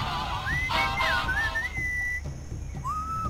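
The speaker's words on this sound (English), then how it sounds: "What is that enchanting whistling sound?" A thin, wavering whistle rises and glides through a short tune in Sam & Max Beyond Time and Space over a low background hum, with a second short whistle near the end.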